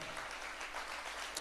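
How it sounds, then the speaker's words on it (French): Audience applause at a French-language youth event about poverty, a faint, distant wash of clapping that holds evenly throughout without any talk. "Est-ce qu'on peut donner une main d'applaudissement?"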